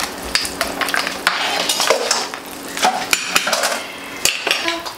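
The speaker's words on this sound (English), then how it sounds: "now we're adding the crabs into the gumbo" Fresh crabs are dropped into a pot of New Orleans gumbo and stirred, with close, loud clattering and scraping of shells and utensils against the pot in irregular bursts over a soft simmering hiss.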